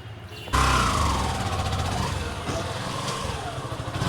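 A motorbike engine starts up abruptly and runs steadily with a low, rumbling idle, fairly close and loud throughout.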